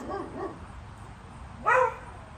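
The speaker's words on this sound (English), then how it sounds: "Well, there go the dogs." Dogs barking indoors at a distance, a couple of faint short barks followed by a louder yip, brief and sparse against a quiet room.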